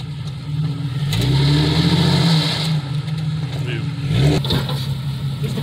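Ford Explorer engine revving while backing up off-road, with mid-pitched surges that rise and fall twice, close and loud, and a voice speaking over it.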